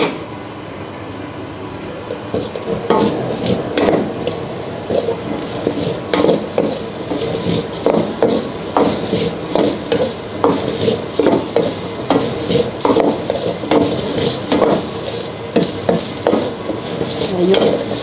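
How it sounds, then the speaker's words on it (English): Green curry fried rice is stir-fried in a pan, with steady sizzling under rhythmic scraping of a utensil against the metal. The quick repeated strokes grow more regular partway through, close and fairly loud, with no talking. "You fry for a few minutes, and then you put the fish sauce"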